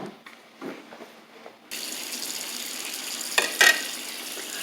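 A kitchen faucet is turned on and runs water into the sink, starting with faint handling clatter before a steady gushing flow with a couple of brief louder splashes.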